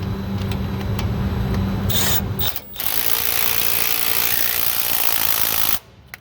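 A ratchet clicks rapidly and closely while an 18 mm shock bolt is tightened on a Ford Super Duty truck. The rough mechanical clatter runs in bursts with a short pause, then stops abruptly.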